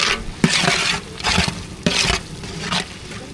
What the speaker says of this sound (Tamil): மசாலாலாம் சேர்த்தாச்சு நல்லா வதக்கி